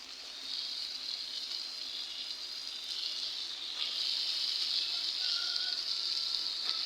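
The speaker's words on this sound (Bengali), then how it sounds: "এখন আমি এই যে লাউগুলা দিয়ে দিব।" Pieces of bottle gourd added to a pan of sizzling spiced rohu fish-head curry, giving a steady bright frying hiss that grows slightly louder partway through, with no voices.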